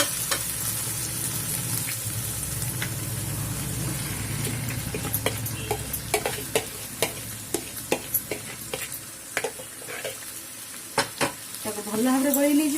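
Chicken pieces sizzle steadily in a hot pan for a chicken curry, with sharp clinks and scrapes of stirring toward the end and a fresh burst of frying as more goes in.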